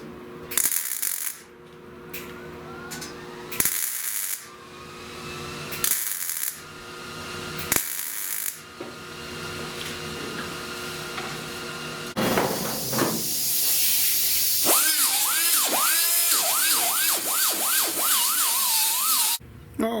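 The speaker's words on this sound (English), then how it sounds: "Now I can come in and weld this up." Welding on a rusted windshield channel: bursts of crackling, hissing arc in short tacks separated by pauses, then a longer continuous weld with whining, warbling tones toward the end, all close and fairly loud.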